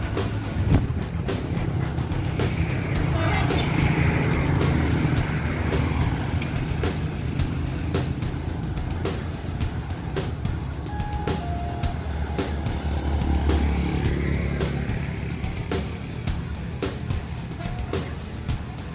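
Steady roar of cars and a bus driving past on a road, continuous traffic rumble and tyre noise swelling and fading as vehicles pass, close by and with no talking.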